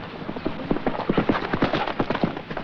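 A racehorse runs with rapid, rhythmic hooves clip-clopping close and steady throughout, faint voices murmuring beneath.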